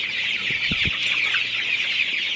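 Sonali super hybrid chickens, 39 days old, clucking in a poultry shed, a few low clucks near the start over a steady bright background hum of fans, no talk.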